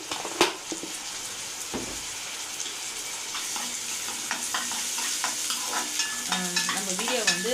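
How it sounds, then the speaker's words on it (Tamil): Ginger garlic paste sizzles in a hot pan for bread egg kothu, with steady close frying hiss and the clatter of a spatula stirring, and no voices. "நல்லா வதங்கட்டும். நல்லா ப்ரௌன் ஆனால் தான் நல்லாயிருக்கும்."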